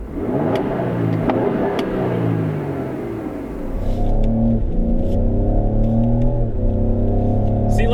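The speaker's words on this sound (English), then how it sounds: "it definitely sounds the part. It definitely sounds pretty mean, like an ST model should." Cabin sound of a 2020 Ford Explorer ST: the engine revs up through a gear, pauses on a shift, then pulls hard again with a loud, rising, growly note heard close from inside the SUV.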